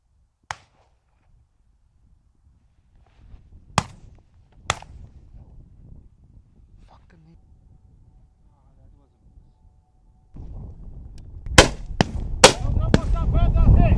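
A shotgun fires at grouse on a Scottish shoot: a few sharp, distant reports ring out across a mostly quiet moor, then closer, louder shots crack over windy rustling and movement near the end.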